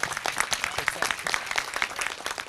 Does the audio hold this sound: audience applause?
yes